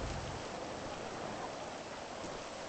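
Steady rain in the GTA 5 video game makes a continuous, moderately faint hiss of falling drops that runs unbroken for a few seconds.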